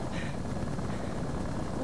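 Helicopter in the game Far Cry 3, a steady droning rotor and engine hum running continuously at moderate loudness, with a voice speaking over it.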